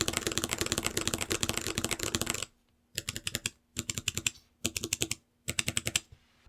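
Fingers type on a mechanical keyboard fitted with Box Royal tactile switches, giving crisp, rapid clacking keystrokes in a long run and then several shorter bursts separated by brief pauses, close and clear.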